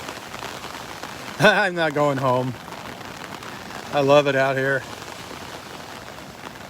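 Rain falls on Vanderbilt Beach in Naples, Florida, during Tropical Storm Elsa, a steady soft hiss running throughout beneath two short bursts of a voice.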